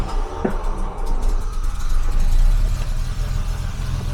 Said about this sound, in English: That is one real hissing sound.